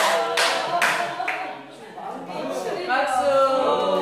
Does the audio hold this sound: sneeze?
no